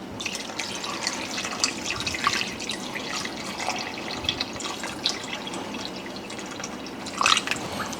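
Water is poured into a pot of beef pares, a continuous faint splashing and trickling with scattered drips and small splashes, with no voices.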